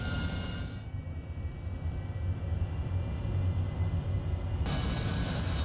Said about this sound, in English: here's a Harrier taxiing out from our base at Banderlenge on the way to the test range